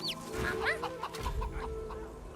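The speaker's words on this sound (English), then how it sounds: "Terrifying chicken." A chicken in the video game Divinity Original Sin 2 clucks in several quick, close squawks over faint game ambience and a low hum.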